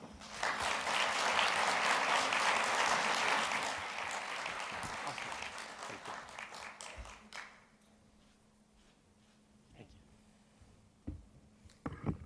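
Audience applause welcoming John Shoraka to the stage at a conference: loud clapping swells at once and holds for several seconds, then thins out and fades to scattered claps and quiet room noise.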